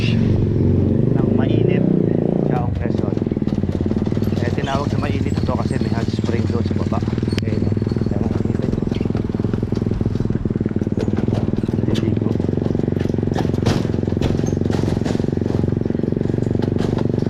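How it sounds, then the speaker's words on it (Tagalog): A motorcycle passes on a pathway during a cross-country ride, its engine a loud, rough drone that swells early then holds steady with clattering noise throughout, while a person talks nearby. "Hintay lang natin may dumadaan na motor."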